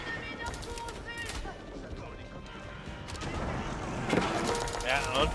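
Cannons fire in an Age of Empires IV battle, with repeated sharp booms and crashes cutting through the clash of combat while a commentator talks over the action.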